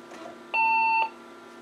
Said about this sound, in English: And we get a beep error from the computer